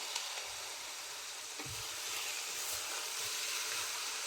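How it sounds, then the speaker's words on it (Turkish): Tomato paste and soaked chickpeas sautéing in a Fissler pressure cooker give a steady, moderate sizzle and hiss, with occasional soft stirring knocks and no talking. "Salçamızın da kokusu çıkana kadar güzelce kavuralım."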